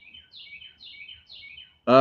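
A bird sings outdoors in early summer, repeating three or four short bright descending phrases at a steady pace, fairly faint. A voice cuts in loudly right at the end.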